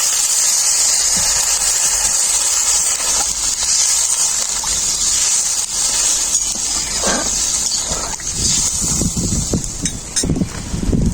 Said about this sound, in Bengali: এরপর পরিমাণ মতো জল দিয়ে দেবো।